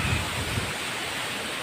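Vibhuti Falls pours from 50 to 80 feet, a loud dense roar of falling water close by with some wind buffeting the microphone and no speech.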